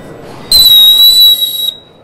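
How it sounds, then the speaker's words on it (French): A loud, piercing blast from a Leatherman emergency signal whistle held for about a second, shrill and close, fading quickly into quiet. "Ça siffle. Hein. Ça siffle encore d'ailleurs."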